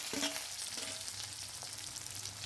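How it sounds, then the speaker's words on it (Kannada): Chopped onions frying in a pan with mustard seeds, cumin and curry leaves give off a soft, steady sizzle and hiss, with a few faint stirring taps early on. "ಇದನ್ನು ಫ್ರೈ ಮಾಡ್ಕೊಂಡು ಇದಕ್ಕೆ ಒಂದು ಟೊಮೆಟೊ ಹಾಕಿದ್ದೀನಿ"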